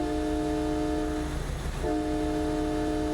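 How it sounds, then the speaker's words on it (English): A train horn in the American Truck Simulator game sounds a long, steady multi-tone blast, briefly broken near the middle before resuming, heard alone without talk. "Oh, I like the horn. Train coming."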